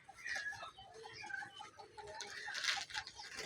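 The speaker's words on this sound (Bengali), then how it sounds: "এই কবুতরটা হচ্ছে রেসার।" A racing pigeon, about sixteen months old, held close by hand. Soft cooing and flutter sounds come in short bursts with faint rustling, and no one talks.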